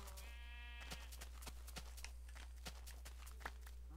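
Sheep bleating in Minecraft Xbox 360 Edition, a single wavering bleat early on followed by a run of quick, evenly spaced footstep clicks over a steady low hum.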